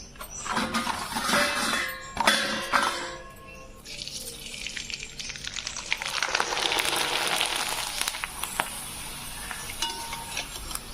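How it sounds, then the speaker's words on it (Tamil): Homemade rice appalam fries in hot oil with a steady, hissing crackle, opening with some clinks and handling noises, then a fizzing sizzle that holds up close. "பாருங்க அப்பளம் பொரிச்சிட்டு வந்தாச்சு"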